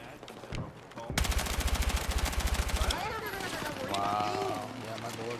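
Automatic gunfire in the video game Battlefield 6, a sustained rapid burst of shots lasting a couple of seconds, loud and close, surrounded by game sounds and a brief voice.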